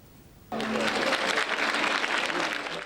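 Spectators at a fashion show break into applause as models appear on the runway: after a short near-silence, dense clapping starts abruptly and holds steady and loud, with a voice speaking over it.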